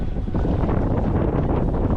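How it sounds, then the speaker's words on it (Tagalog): Strong wind at a viewpoint on Jomalig island, Philippines, buffets the microphone with a loud, steady roar, rumbling continuously with no voices. "Napakalakas ng hangin dito."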